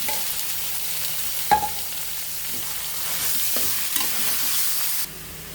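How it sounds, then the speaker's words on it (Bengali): Chicken pieces fry and sizzle in a pan with onion, garlic and ginger, a constant hiss broken by a few sharp clinks and scrapes of stirring, close and with no talk. "আমাদের পেঁয়াজ, রসুন এবং আদা হালকা ভাজা হয়ে গেছে। এখন আমরা চিকেনগুলো দিয়ে দিব এর মধ্যে।"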